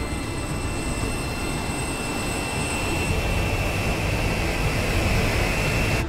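A steady, loud jet engine roar fills the whole stretch, broadband rumble with a thin high whine, building slightly toward the end as the aircraft powers up.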